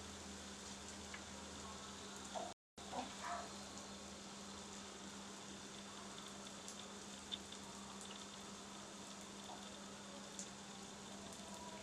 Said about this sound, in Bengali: আমি জিলিপিগুলোকে 2 থেকে 3 মিনিটের মতো ভাজবো।